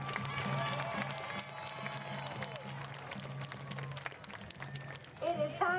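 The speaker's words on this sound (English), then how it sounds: "A round of applause." A stadium crowd at a Friday night high school football game between Alamo Heights and Brackenridge at SAISD Sports Complex claps and cheers from a distance, a steady wash of applause under a PA voice, rising slightly at the end.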